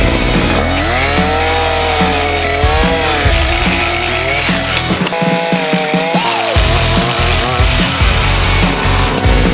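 Excel 52cc petrol multi-tool pole saw with its extension pole fitted, cutting in a garden: a loud, continuous two-stroke engine whine that rises and falls in pitch as the chain bites, close and steady throughout.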